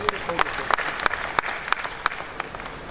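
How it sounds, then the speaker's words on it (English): Applause from the audience at the annual assembly of registered quantity surveyors, a continuous spread of clapping with distinct louder claps popping out, and some voices murmuring beneath it. "a round of applause for yourselves"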